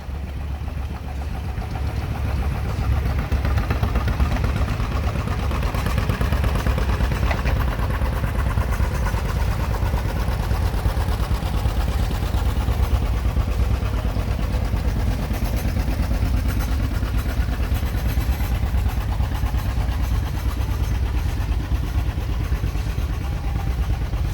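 A 1945 John Deere Model B antique tractor rolls past in a parade, its engine a continuous low, throbbing chug with a rough knocking texture, fairly close and steady throughout, with faint outdoor crowd noise and no clear talk.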